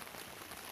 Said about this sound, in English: We got a little rain. You can hear the rain.